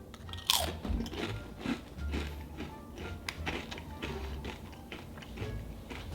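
Sour cream and onion Sun Chips crunch loudly between the teeth, with one sharp bite followed by steady close chewing and crackling for several seconds, with no talk.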